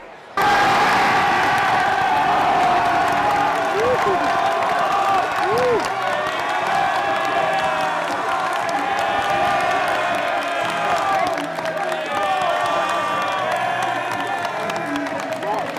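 Loud, sustained crowd cheering and whooping fills a packed gym at a high school basketball game, a dense roar with shouts and squeaks continuing throughout.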